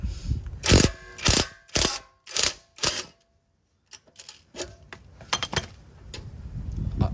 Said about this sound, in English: Now I'm going to do it with the impact gun, and I'll show you how great this thing is.